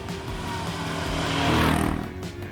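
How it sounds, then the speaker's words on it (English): A 4x4 ATV engine labours under the load of two riders, a steady loud drone that swells toward the middle before easing slightly, with no talk over it. "Under this load the ATV goes surprisingly well, but you can feel the engine working hard"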